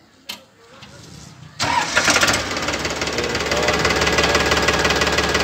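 A 2021 Farmtrac 45 tractor diesel engine cranks and fires up, then settles into a loud, steady, knocking idle heard close by outdoors.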